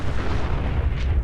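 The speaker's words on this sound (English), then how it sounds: "it's gonna make one hell of an explosion" A self-destruct explosion in the video game Fallout 4 sounds as a loud, continuous deep rumbling boom that fills the whole moment, close and heavy, with no voices.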